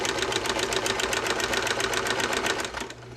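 A 1971 Sears sewing machine stitching rows runs close and steady, giving a rapid, even mechanical whir-and-clatter rhythm throughout with no voices.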